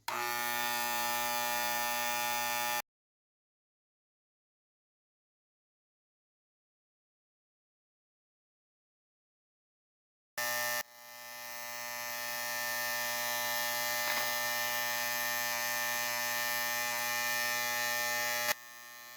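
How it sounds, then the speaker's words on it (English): A bearing heater in a machine shop drones with a steady electric hum while heating a metal part, cutting out abruptly for a long stretch of silence before humming again and swelling slightly in loudness. "So the first attempt is going to be with the bearing heater"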